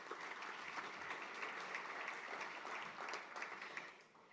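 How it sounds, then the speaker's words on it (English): A crowd applauds steadily at an outdoor golf tournament summer party, a dense wash of clapping hands that holds level and tapers slightly at the end, heard from a distance. "Please, a round of applause for them."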